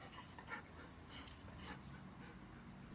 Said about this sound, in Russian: Волосатая собака.